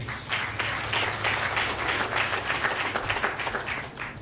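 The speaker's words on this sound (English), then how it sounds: "let's give a round of applause to these two great leaders" A round of applause fills a 2017 graduation ceremony hall: many hands clap steadily and densely throughout, a loud, continuous wash of sound with no voices on top.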